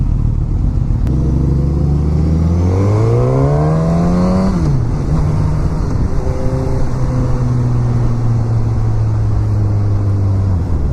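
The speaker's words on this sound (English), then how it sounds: "I really like how this bike sounds." A 2016 Suzuki GSX-S1000 ABS sportbike climbs steadily through the revs while being ridden, drops sharply at a gear change, then settles into a steady cruising drone under constant wind rush.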